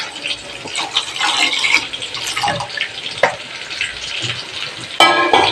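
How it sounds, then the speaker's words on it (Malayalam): Lentil payasam with jaggery and thin coconut milk being stirred as it cooks, wet bubbling and sloshing with spoon scrapes and clinks, a sharp knock near the end, close and fairly loud without talk. "രണ്ടാം പാൽ ഇങ്ങനെ വെച്ചിട്ട് അത് ഇളക്കി ഇളക്കി വേവിച്ചെടുക്കാം"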